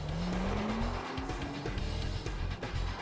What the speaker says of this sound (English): drive very fast, then hard on the brakes 20 times over 5 laps